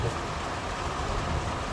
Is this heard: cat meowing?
no